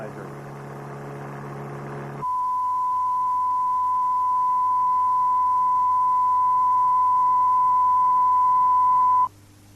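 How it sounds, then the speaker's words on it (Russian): A steady single-frequency test tone sounds alone, continuous and unwavering for about seven seconds at constant loudness after a brief burst of broadband noise, then cuts off abruptly. "Если натренировать ухо, слушая подобные звуки разных частот, то можно будет опознавать частоты даже без помощи анализатора."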